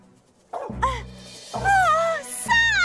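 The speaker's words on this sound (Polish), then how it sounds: "Słyszę szczekanie!" A cartoon dog barks and yelps in three bright, pitched bursts spread across a few seconds, loud and close, over a low, steady background hum.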